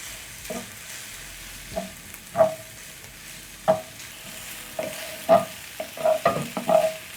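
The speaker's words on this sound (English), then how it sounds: "I'm going to be adding in my chopped up garlic and ginger. Stir in and cook until fragrant." Chopped garlic and ginger being stirred into softened onions in a pan, giving a low steady sizzle broken by a series of scraping stirring strokes at irregular intervals, close up with no talking.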